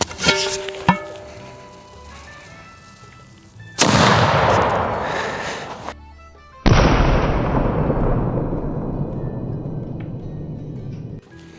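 A black-powder gun loaded with nail shot fires at a gambeson. Two loud, booming blasts go off a few seconds apart, each trailing a long rumbling decay, with faint clicks and a ringing tone before the first.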